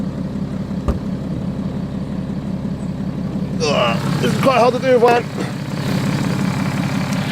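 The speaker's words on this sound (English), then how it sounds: "As you can see now, I have the car running." A BMW 730LD idles steadily, its low engine hum running throughout with the bonnet being lifted; someone talks over it partway through.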